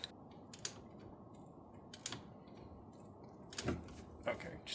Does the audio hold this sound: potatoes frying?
no